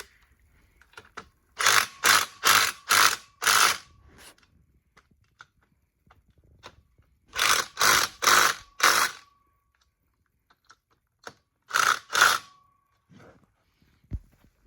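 Socket ratchet fastening a motorcycle exhaust muffler, an FMF Powercore 4, heard as close, loud bursts of rapid clicking in three groups, five, four, then two strokes, separated by quiet pauses.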